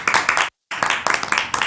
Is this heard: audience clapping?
yes